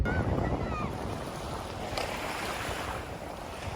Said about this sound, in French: Je sais pas si vous m'entendrez parce qu'il y a beaucoup de vent